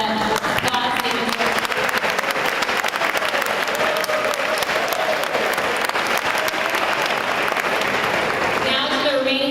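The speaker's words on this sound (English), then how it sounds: "Let's give them the applause." Loud, dense applause from an audience at a college athletics awards ceremony, continuous clapping with a few cheers, sustained at full strength for several seconds before a voice begins near the end.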